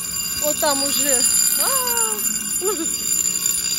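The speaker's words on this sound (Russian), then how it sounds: "Слушайте, такой тревожный сигнал." Warning signal from a lowering barrier gate at a drawbridge in Miami: a few rising and falling electronic tones, with someone talking over them against steady outdoor background noise.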